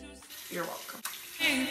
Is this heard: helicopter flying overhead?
no